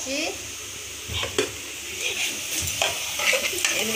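Chicken frying in hot oil in a pot for dum biryani, a soft steady sizzle broken by repeated scraping stirs and light clinks of a spoon against the pan, close and moderately quiet.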